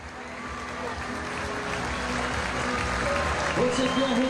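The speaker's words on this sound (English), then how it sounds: "Saints come to applaud the spectators, as is the norm." Steady applause from a rugby league stadium crowd at St Helens versus Salford, as players applaud spectators, broad and continuous, with cheering and voices mixed in and swelling slightly toward the end.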